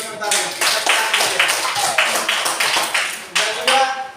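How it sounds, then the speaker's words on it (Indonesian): A small classroom group claps their hands together in a rhythmic, evenly paced burst of clapping, close and fairly loud, with faint voices underneath. "Dan juga tepuk tangan lagi untuk kita semua karena jawabannya kita benar semua."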